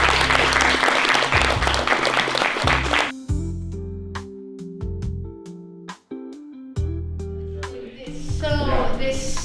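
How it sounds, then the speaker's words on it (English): An audience breaks into loud clapping, which drops off after a few seconds as people start talking, then more applause swells near the end. "Please give a round of applause."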